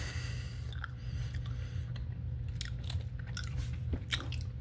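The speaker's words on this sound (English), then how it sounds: "the fact that I can't chew through these things" Chewing on green apple gummies shaped like a Krabby Patty combo meal, with close, wet, tacky bites and mouth sounds over a steady low background hum, no talking.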